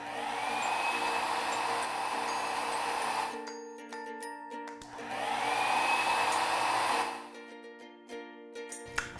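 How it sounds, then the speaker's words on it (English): A hair dryer blows steadily while drying hair upward for volume, a loud close whooshing hum that runs for several seconds, cuts off, restarts for a second long stretch, then stops amid light handling clinks. "you're blow drying sort of up so that you have that movement"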